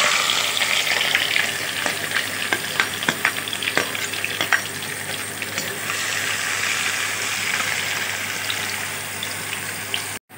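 Onions sautéing in a pan for rava kichadi, a loud continuous crackling sizzle close by with quick scraping stirs and clicks of a spoon, ending abruptly, no voices.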